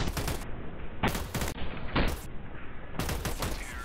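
Video game gunfire crackles in several bursts of rapid shots, loud and close, separated by short gaps of quieter background sound.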